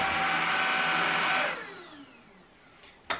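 A Shark Anti Hair Wrap cordless stick vacuum suctioning with a loud, steady whine that winds down after about a second and a half, ending with a short click.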